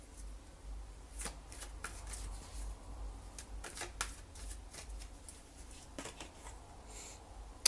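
A tarot deck is shuffled and handled close up, with quick papery riffles and flicks of cards scattered through a quiet room, ending in a sharp slap as a card is set down.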